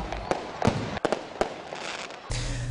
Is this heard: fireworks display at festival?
yes